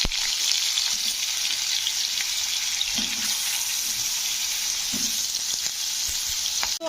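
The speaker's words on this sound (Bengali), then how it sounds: "তো এবারে আলুটাকে দিয়ে দেব। আলুটাকে একটু ভেজে নেব প্রথমে।" Potatoes frying in hot oil for a bitter neem curry, a steady loud sizzle throughout with occasional stirring clinks and scrapes, no voices.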